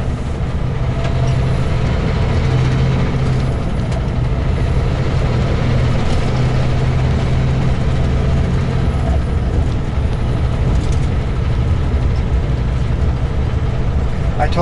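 A vehicle drives a long stretch of gravel road, its steady low engine rumble and broadband crunching roar continuous and loud throughout, with no pauses.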